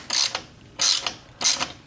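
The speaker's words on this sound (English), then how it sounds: "electric wrench wasn't powerful enough to turn that" An electric wrench strains against a 15 mm exhaust bolt on a 2015 Jeep Wrangler, giving three short, loud mechanical whirring bursts spaced evenly with brief pauses, up close and without talk.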